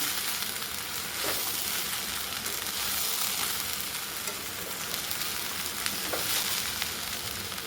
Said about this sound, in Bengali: ভাতটা ভাজা হয়ে গেছে। এবারে ঘি দিয়ে দিচ্ছি।